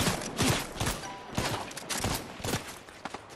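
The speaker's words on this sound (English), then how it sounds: "They're shooting at me from behind." Gunfire in a Fortnite match, several sharp shots in an irregular burst spread across a few seconds, moderately loud with game ambience around them.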